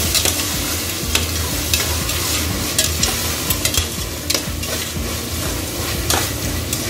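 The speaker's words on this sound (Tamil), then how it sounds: "சேர்த்து நல்லா கிண்டி வச்சுக்கணும்" Tomatoes and vegetables are stirred and sautéed in a pan, with a loud, continuous sizzle and a repeated clatter of the spatula scraping the metal at a fairly regular rhythm, close up.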